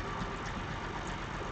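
The engine of an unmanned, robot-controlled Ursus tractor runs with a low, steady throbbing hum, fairly faint and alone, with no clear rise in revs.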